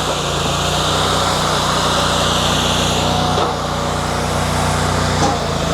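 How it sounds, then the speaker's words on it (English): A V-twin engine on a Fuelwood Splitta 600 wood splitter power pack runs steadily at a constant speed, a continuous loud droning hum with no breaks. "everything's running off of that one V-twin engine there on that PowerPack."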